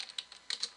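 Quick, light clicks of keys on a computer keyboard as a command is typed, a short burst of close, crisp taps in an irregular rhythm with no talking.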